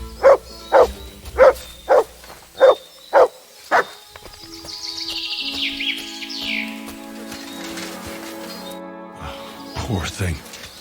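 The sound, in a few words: dog barking in Kingdom Come: Deliverance II video game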